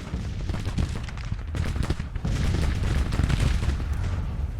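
Civil War cannon and artillery fire in the Grand Tactician: The Civil War strategy game roll on as dense, overlapping booms and crackling volleys, a continuous loud battle din with no talking.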